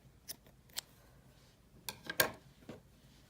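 A few sharp, quiet snips of scissors cutting a yarn end close to crochet work, spaced apart in an otherwise hushed room.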